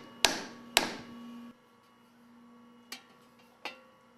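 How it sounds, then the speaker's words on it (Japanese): Sharp metallic taps of a small hammer beating a metal vessel's wall against a stake ring out, two close together, then a pause and two more, each leaving a brief resonant ring. "当て金に本体の立ち上がり部分を当て、小さな金槌を使って打っていきます。"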